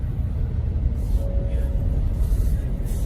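A 2022 Toyota Fortuner GXL four-wheel drives along a bush track, giving a steady low engine and tyre rumble from inside the cabin that holds constant throughout.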